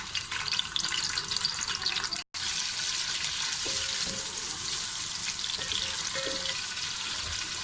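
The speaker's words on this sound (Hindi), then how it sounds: "ऑयल गर्म हो गया, अब इसके अंदर प्याज डालेंगे।" Sliced onions sizzle in hot oil in a pot for chickpea pulao, producing a steady, loud, hissing crackle that runs continuously apart from one brief cut.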